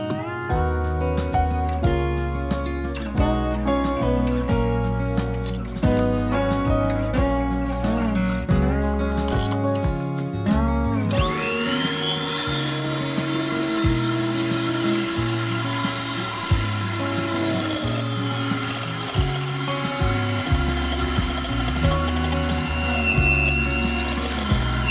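A metal drill bit is sharpened to a 90-degree point, most likely on a grinder. After about eleven seconds of music, a steady, rasping grind takes over and runs continuously and fairly loud to the end.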